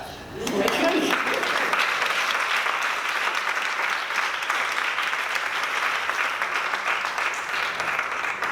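Audience applause at a political talk breaks out after a brief moment of quiet and then holds as a full, even wash of clapping from many hands until the end.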